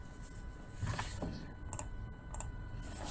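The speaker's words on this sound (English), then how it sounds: "when you're typing actually, and then you press space bar" Computer keyboard keys pressed in a few separate clicks and taps, including the space bar, faint and close over a quiet hiss, with no voices.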